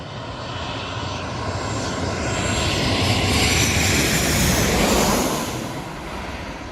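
A large airliner arriving at Itami Airport passes overhead with a loud engine roar that swells to a peak and then begins to fade.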